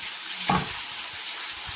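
Tempering of chana dal, mustard seeds and curry leaves with onion in hot oil for upma, a steady faint sizzle with one brief louder splash of frying near the start, no talking.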